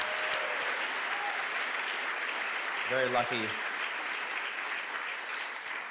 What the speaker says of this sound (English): Let's get another round of applause for the members of the Australian Chamber Orchestra